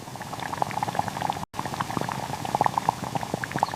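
Water bubbles at a rolling boil, a dense stream of small pops and gurgles close by, steady throughout with a brief dropout partway.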